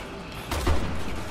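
A burst of gunfire from the Resident Evil 6 video game, a single loud broadband shot with a brief rumbling tail, standing out over quiet background.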